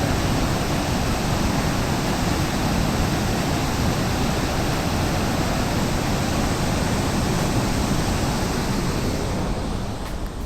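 Floodwater pouring through open dam gates at Harike headworks, Punjab, a constant loud roaring wash of water with some wind buffeting, steady throughout and easing slightly at the very end.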